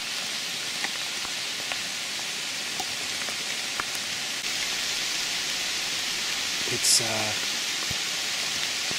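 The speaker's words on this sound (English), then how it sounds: "3 hours into sitting in the pouring rain." Pouring rain falls steadily during a hunt in Texas brush country, a dense, even hiss that fills the whole stretch, with a brief voice near the end.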